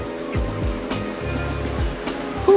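A motorboat drones on open water in a steady hum, with waves slapping and swishing in repeated rhythmic surges close by.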